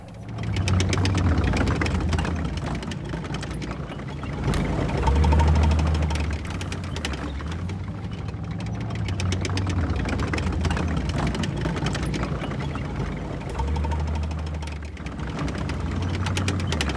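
Israeli tanks rumble continuously in a steady heavy engine drone, idling and moving with low throbbing surges that rise and fall, no talk.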